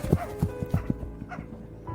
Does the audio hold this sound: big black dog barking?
yes